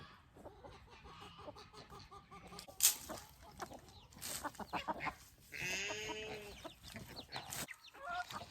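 Chickens caught and held in a pen on a homestead, clucking and calling intermittently at moderate distance, with scattered bird noises and no one talking.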